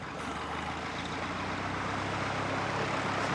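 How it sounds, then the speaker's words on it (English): A small propeller plane's engine drones steadily nearby at an aero club airfield, a continuous rough hum with a bright whirring edge. "that'll be the engine, as you can hear."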